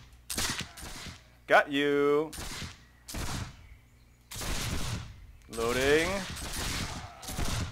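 Shrapnel-shot cannon fire in a Caribbean pirate video game, a series of blasts and rumbling bursts of varying loudness, with someone speaking briefly between them and game sounds in the mix.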